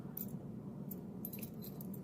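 A bunch of old keys jangle close by in a few short metallic bursts of light clinking over a faint steady room hum.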